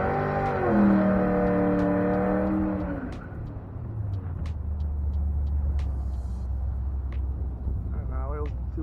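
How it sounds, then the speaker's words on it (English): A drag racing car does a burnout at New England Dragway, a loud engine howl that rises and then drops into a deep sustained rumble, with sharp crackling pops throughout. "He's gonna do his burnout now."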